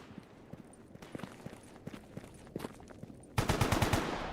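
Scattered gunshots in the game Stalker GAMMA crack sporadically at a distance, then a louder burst of rapid automatic fire erupts near the end.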